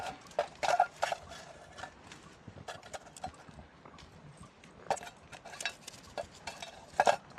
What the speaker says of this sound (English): Put my tongs together, and so that I can get a hold of some hot coals. I'll just put these big old hot coals on here.